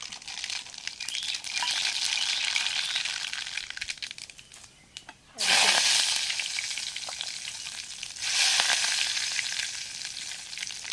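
Mustard seeds frying in hot oil for a chicken curry: loud, dense crackling and spitting that eases briefly, then bursts up again sharply in waves, close and with no voices.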